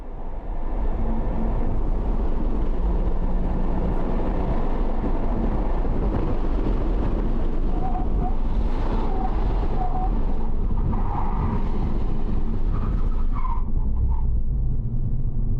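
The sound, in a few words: Honda Civic Type R FK8 accelerating on race track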